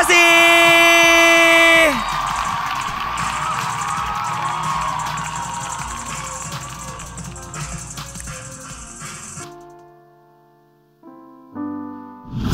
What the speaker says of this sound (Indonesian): Sekali kita tepuk tangan untuk mereka semua teman-teman.